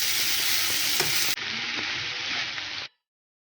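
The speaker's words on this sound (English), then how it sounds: "So I add my noodles gradually and I stir them" Vegetable and shrimp stir-fry noodles sizzle loudly in a hot pan while being stirred, a steady broadband frying hiss that briefly drops in intensity partway through, then cuts off; no one talks.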